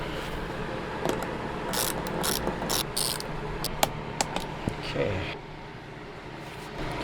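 Bolts being tightened with a hand ratchet, a series of quick clicking bursts and a few sharp clacks over a steady background hum, fairly close.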